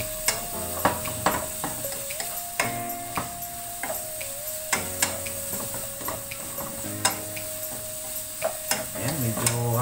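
Broccoli frying in butter in a pan, a steady soft sizzle broken by repeated sharp clinks and scrapes of stirring, close and fairly loud, with a faint tonal hum running underneath.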